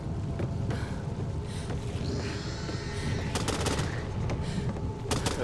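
Gunfire in the zombie shooter game Back 4 Blood, with scattered sharp shot bursts and rapid volleys over a low rumbling, windy game backdrop, fairly quiet overall and growing busier toward the end.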